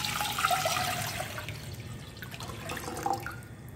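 Water pours steadily into a pot for cooking, one liter going in with a continuous splashing rush that is loud at first and then eases slightly, with no talking.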